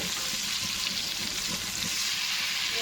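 Brinjal slices frying in hot oil give a steady, close broadband sizzle that holds evenly for the whole stretch, with faint low scraping from stirring underneath and no voices.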